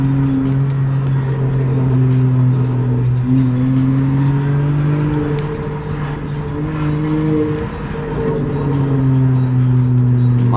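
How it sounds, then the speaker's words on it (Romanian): An Opel car pulls away and accelerates, its loud engine tone rising and holding steady as it moves off, with no talk. "Uite ce se duce Opelul."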